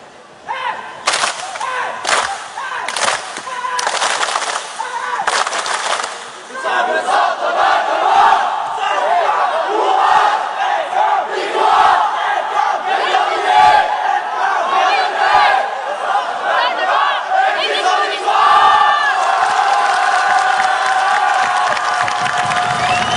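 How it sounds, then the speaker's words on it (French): Delegation at the WorldSkills 2023 opening ceremony in Lyon shouts a group battle cry, loud rhythmic chanting and yelling from a large crowd with sharp claps and bursts, sustained and boisterous throughout. "Allez, le cri de guerre."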